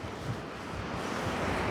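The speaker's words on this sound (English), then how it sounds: "seabirds, the sound of the waves" Waves wash onto a quiet beach at Skegness, a steady, soft surf hiss with some wind rumble running through the short stretch and no voices.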